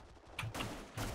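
AK rifle fire in an online shooter video game comes as three short bursts of sharp shots, fairly faint and separated by brief gaps, with no talking.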